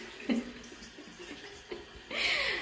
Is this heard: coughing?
no